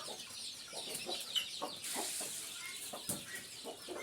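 Country hens cluck and murmur near the coop on an organic farm, a series of short, soft clucks scattered irregularly over a faint outdoor background, fairly quiet and with no one speaking.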